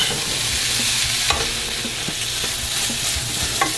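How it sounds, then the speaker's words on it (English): Potatoes and cumin sauté in a pan, a steady broadband sizzle broken by a few soft clicks and scrapes of stirring, close and continuous with no talk. "We'll let this saute."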